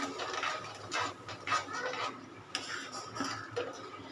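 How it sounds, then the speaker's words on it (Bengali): A spoon stirring raw mango jelly in a pan, giving repeated scraping, ticking strokes in a steady back-and-forth rhythm, close and moderately loud with no talk. "ভালো করে নেড়ে ছেড়ে নেড়ে ছেড়ে জেলিটাকে বানাবো"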